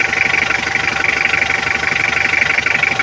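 A freshly overhauled Toyota Qualis engine idles steadily up close, a continuous loud running hum with a fast, even mechanical ticking pulse and no voices.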